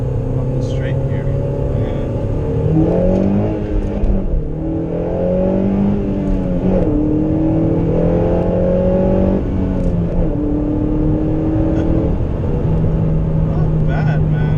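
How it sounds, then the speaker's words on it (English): Engine of a 9th-generation Honda Civic Si HFP climbing hard to high RPM on a straight, a loud, rising drone with stepped pitch sweeps as it revs through the gears, heard from inside the car. "this car loves the higher RPMs, clearly"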